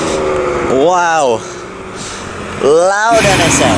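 A loud Honda NSX sports car passes close by, its engine climbing through two sharp rising revs with a rasping, high-pitched wail over constant street noise.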